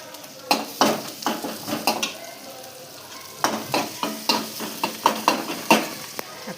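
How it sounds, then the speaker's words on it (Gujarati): Onion and crushed garlic frying in a pan for karela sabji, a soft sizzle under repeated scraping stirs of a spoon against the pan, irregular clinks in quick bursts, close and fairly quiet. "ડુંગળી ચડી જાય ત્યાં સુધી આપણે એને શેકી લેશું।"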